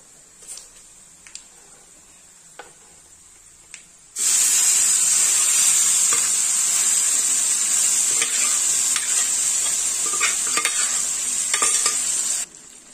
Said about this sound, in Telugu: ఇప్పుడు దీంట్లో మనం ముందుగా రుబ్బి పెట్టుకున్న పప్పును వేసేస్తున్నాము